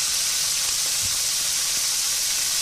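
Mallard duck pieces for a duck andouille gumbo hitting a hot pan, making a loud, dense, continuous sizzle and hiss with a few faint stirring knocks and no talk.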